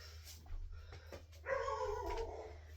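A dog barks a few times at a distance, sharp separate yaps followed by a longer whiny bark, over a faint low hum.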